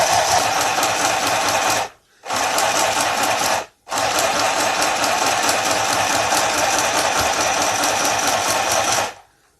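A sewing machine stitches through a stiff acetate sheet, whirring loudly and steadily in three runs separated by two brief stops, with no talking.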